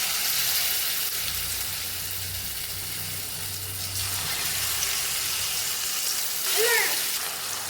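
Thankuni leaf fritters frying in hot oil, a steady loud sizzle with a wet, watery hiss throughout, plus a brief clink near the end.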